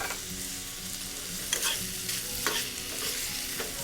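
Grapes and almonds sauté in butter in a pan, a close, lively sizzle with repeated stirring scrapes and clinks over a few seconds, no speech.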